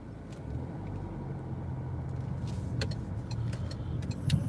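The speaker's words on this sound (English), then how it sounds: "Cars coming." Cars drive past on a road, a steady close rumble of engines and tyres that swells near the end as one vehicle passes, with no talking.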